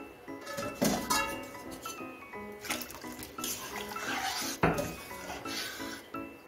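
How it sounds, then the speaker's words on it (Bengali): Hot water poured into a pot of vegetable dal, a steady splashing flow broken by clinks of a utensil against the pot, with no talking. "এখন আমি পরিমাণ মতো গরম জল দিয়ে দিচ্ছি।"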